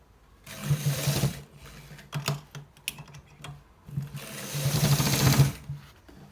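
Stitching a designer collar shirt, a sewing machine whirs through two longer runs with short clattering bursts between them, loud and close with no talking.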